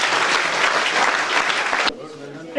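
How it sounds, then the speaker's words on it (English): Crowd applauding at an NCC cadet training closing ceremony, loud sustained clapping for nearly two seconds that cuts off abruptly into quiet room tone. "Give them a round of applause."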